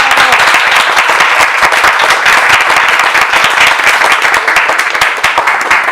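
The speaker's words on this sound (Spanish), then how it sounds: "Un aplauso para Javier, por favor." A book-launch audience in Mexico City applauds the author, dense continuous clapping from many hands filling the room loudly and evenly for the whole stretch.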